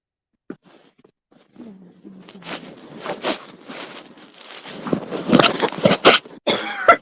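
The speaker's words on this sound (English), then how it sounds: "I'll have to excuse my coughing and hacking and wheezing." A man coughs and clears his throat several times at close range, the rough bursts growing denser toward the end, mixed with handling and rustling noises.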